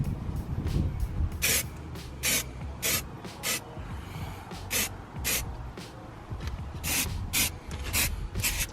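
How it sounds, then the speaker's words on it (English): An aerosol can sprays coating onto car parts while rust is being fixed. There are about a dozen short hissing bursts in an uneven rhythm, each lasting under a second, close and fairly quiet, with soft handling noise between them. "I've given this a really good shake up, so yeah, ready to just spray on."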